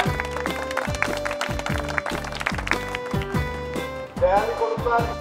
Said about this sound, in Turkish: Alkışlayalım arkadaşımızı.